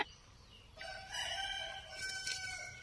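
A rooster crows nearby on a Philippine farm beside a carabao buffalo, one drawn-out cock-a-doodle-doo rising and falling over quiet rural background, no talking.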